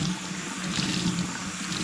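Tap water runs steadily into a sink as a cleaning rag is rinsed out after scrubbing hard water stains, a continuous close splashing rush with no talk.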